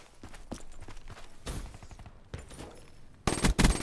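Rapid automatic gunfire from the MA rifle in the shooter video game Call of Duty: Black Ops 3, heard in short bursts and single cracks with a louder closing burst.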